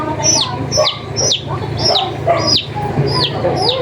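High, sharp peeping calls of a turkey chick repeat at a steady rhythm, about every half second, close and clear over soft background noise.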